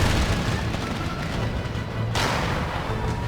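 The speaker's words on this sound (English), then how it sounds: "It's just a cannon." Cannon fire in the strategy game Empire: Total War, a dense rumbling roar of artillery with a fresh boom landing near the middle, loud and continuous throughout.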